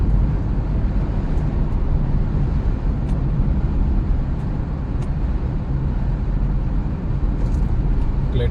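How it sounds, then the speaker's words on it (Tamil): A steady roar of city road traffic passes by in a continuous dense rumble, with occasional faint horn-like chirps and wind buffeting the microphone throughout. "டிராஃபிக் வர ஆரம்பிச்சிருச்சு பார்த்தீங்கன்னா தெரியும் சிட்டி ஸ்டார்ட் ஆகிடுச்சின்னு அர்த்தம்"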